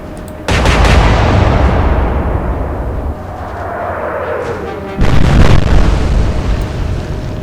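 Naval gun salvo in the Atlantic Fleet game: a sudden loud boom opens the clip and rolls into a long rumbling decay with a faint whistling shell sweep, then a second heavy blast lands near the end.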